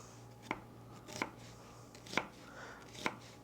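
A sharp knife chopping an onion on a board, four crisp separate cuts spaced unevenly over a faint steady hum, close and clear with no voices.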